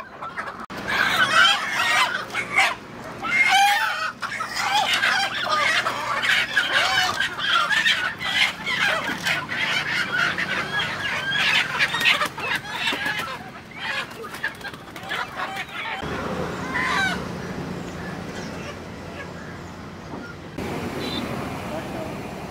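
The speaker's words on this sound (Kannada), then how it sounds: "ಕೋಳಿಗಳೆಲ್ಲ ಇಲ್ಲೇ ಇವೆ" Country chickens cluck busily and close by, with occasional rooster-like calls, amid a noisy outdoor bustle of voices and movement.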